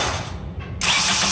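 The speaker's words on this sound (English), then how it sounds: "every time you touch the solenoid here, the starter should spin" A car starter motor spins up as its solenoid is jumped with a tool, giving a loud mechanical whirring and ratcheting that swells to a steady, dense whine in the last half second, close up.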